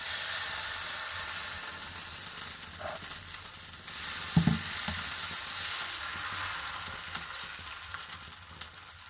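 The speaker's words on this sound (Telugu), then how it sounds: "ఓకే, పెనం వేడెక్కింది, ఇక దోశ వేసుకోవచ్చు." Dosa batter sizzles on a hot griddle with a steady, close frying hiss throughout, broken midway by a brief louder spatter, with no voices.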